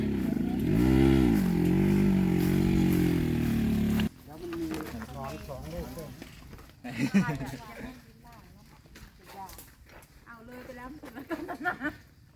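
A three-wheeled motor cart hauling harvested durians on an orchard gives a loud, rough engine rumble for about four seconds, then cuts off as people talk for the rest.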